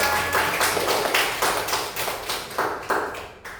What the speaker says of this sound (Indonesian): Beri tepuk tangan dulu untuk Okta.